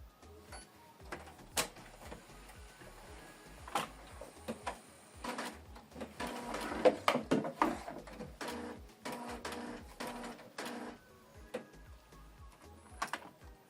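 A Canon Maxify GX2050 ink tank printer powers up after being switched on, with soft mechanical whirring, ticks and clunks that build to busier motor activity midway, then settle, fairly quiet and close.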